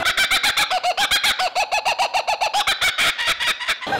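A person imitates the raucous laughing call of a kookaburra, a loud, rapid string of cackling voiced notes rising and falling continuously for several seconds, close to the listener.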